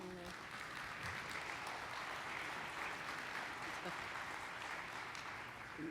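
Audience applause at a public forum on metropolitan and capital-city planning, a dense, sustained wash of clapping from a sizeable crowd that holds steady and fairly loud throughout.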